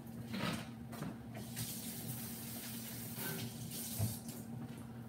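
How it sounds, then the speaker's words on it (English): Tap water runs steadily into a kitchen sink while something is rinsed off, a continuous close splashing stream with a low hum underneath. "let me rinse this off real fast."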